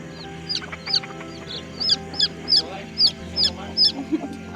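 Chickens clucking close by while foraging for worms on a compost heap at an animal sanctuary, a steady series of short, repeated clucks over a quiet outdoor background.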